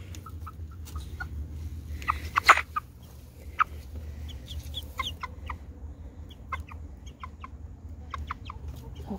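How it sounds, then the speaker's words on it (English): Chickens cluck softly at bedtime in a coop, with scattered short calls over a steady low hum and one louder burst of clucks near the middle. "you're just going to be an all black, beautiful bird"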